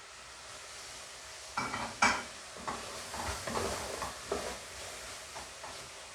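Onions soften in a pot while a spoon stirs them now and then, producing irregular scraping and light clanks over a soft, faint sizzle, heard close up with no one speaking.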